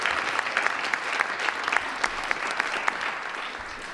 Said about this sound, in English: let's give another round of applause for our wonderful panelists